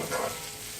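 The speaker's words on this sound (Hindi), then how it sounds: "बस 1 मिनट थोड़ा सा इसे अच्छे से फ्राई करेंगे हम।" Chicken pieces sizzle in a pan and are stirred once, a brief soft scrape over a steady frying hiss, close and fairly quiet, with no talking.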